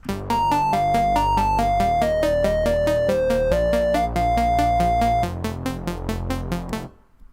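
A bright synth arpeggiator cycles steadily through chord notes in a fast, even pattern, with a sustained bass underneath, stopping abruptly near the end.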